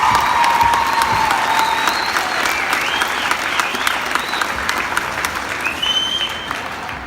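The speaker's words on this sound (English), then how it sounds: "So give them a great round of applause." A crowd in a school gym applauds at a state championship pep assembly for a cross country team, loud sustained clapping with a few whistles and cheers, fading slightly toward the end.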